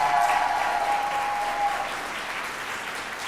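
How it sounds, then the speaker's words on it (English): Audience applause fills a graduation ceremony, a steady dense clapping from a large crowd that holds at an even level throughout and tapers slightly toward the end, with a brief whistle-like tone early on. "A big round of applause for Leslie Balser"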